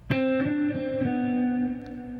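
An electric guitar with distortion picks a few quick notes, then holds a sustained ringing note that slowly decays, clear and close with no voice over it.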